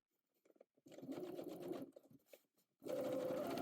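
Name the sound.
sewing machine edge stitching and top stitching seam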